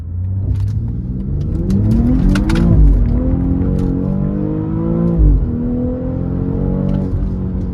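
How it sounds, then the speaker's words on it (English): A 2005 Subaru WRX STI blobeye on new wheels and coilovers launches from a stop sign, its engine revving loudly and climbing in pitch through a shift, heard close and alone. "let's do a rollout peel from the stop sign. We might as well launch it."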